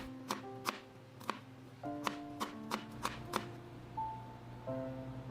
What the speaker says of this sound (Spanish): Luego, corta un poco de ajo picado.